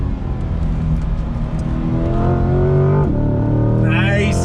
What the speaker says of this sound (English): Love the sound of that V8. Naturally aspirated push rod power.